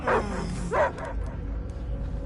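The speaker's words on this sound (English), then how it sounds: "I hear only barking." A dog in the video game Marvel's Guardians of the Galaxy gives two sharp barks, then faint whimpering yips follow over a low rumbling game background.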